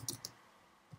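A few light computer keyboard clicks tap out a short name into a web form, two quick bursts then a pause and another keystroke, quiet and close.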